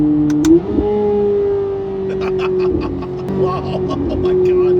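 A Chevrolet Corvette C8 Z06 in paddle shift mode gives a steady engine and exhaust drone that rises briefly early on, then holds level under faint ticking and clicks.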